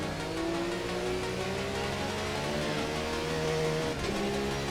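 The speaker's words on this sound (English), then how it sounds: "Let's hear that Porsche." Porsche race car engine in a racing video game, a steady mid-pitched drone with rising and falling revs holding constant volume through the whole stretch, no talk.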